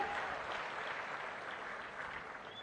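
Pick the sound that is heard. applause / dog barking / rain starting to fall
applause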